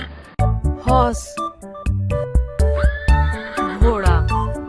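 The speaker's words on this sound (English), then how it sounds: "horse" A horse whinnies as an animal sound effect for a children's animal-name lesson, with a loud, wavering neigh rising and falling over a steady musical backing for several seconds.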